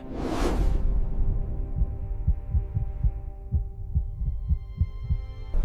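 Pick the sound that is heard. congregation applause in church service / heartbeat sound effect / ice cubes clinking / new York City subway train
heartbeat sound effect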